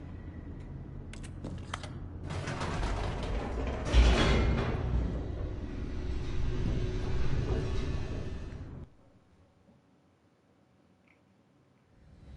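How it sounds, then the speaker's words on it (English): An elevator in The Stanley Parable descends with a loud, steady mechanical rumble and clattering creaks that build and then cut off abruptly, leaving near silence with a faint soft tick at the end. "The elevator raced downward, plummeting towards an unknown fate."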